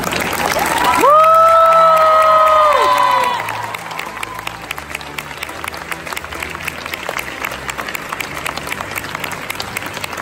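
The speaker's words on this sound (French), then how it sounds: "Alors là c'était pas mal les applaudissements" A crowd at the Paris Manga convention breaks into applause and cheering, loud and dense, with a whoop rising and falling over it before the clapping thins out into scattered claps.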